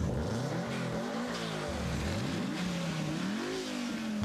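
A modified car revs hard at a large summer car meet in a Richmond parking lot, its engine climbing and falling in repeated swoops of throttle, loud and close with no talk.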